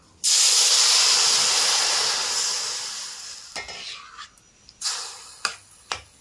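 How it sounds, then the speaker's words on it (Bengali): Hot water hits a hot frying pan of vegetarian low-oil breakfast food, bursting into a loud, steamy hiss that slowly fades, followed by a few sharp scrapes and taps of stirring. "আমি এর মধ্যে বেশ কিছুটা গরম জল দিয়ে দেব"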